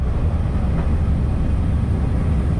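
A steady low rumble of a tourist trolley train rolling along the track of the Mojiko Retro Line in Kitakyushu, Japan, continuous and even, with no voices.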